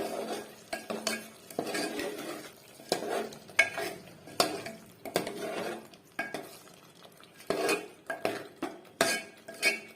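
Spinach egg curry being stirred in a pan, a spoon scraping and clinking against metal in uneven bursts over a faint sizzle, close and without talk.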